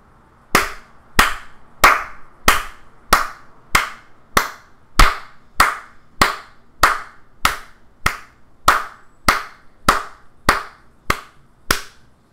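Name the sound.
person clapping hands to train a neural network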